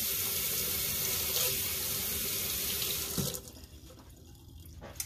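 Tap water runs over a spatula in a sink as it is rinsed off, a close, steady splashing stream that stops after about three seconds, followed by quiet handling sounds.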